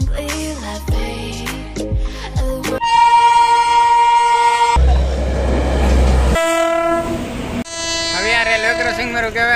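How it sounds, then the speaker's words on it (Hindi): Trains pass one after another at a busy Indian railway station, with loud horn blasts in several tones and rumbling railcars close by. Station noise runs throughout. "एक के बाद ट्रेन आई जा रही"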